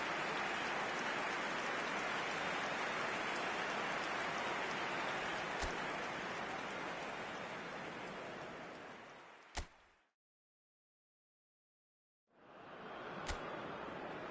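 Steady rain pours over a football video game match in France, a dense continuous hiss that runs unbroken, cuts out into silence for about two seconds, then returns.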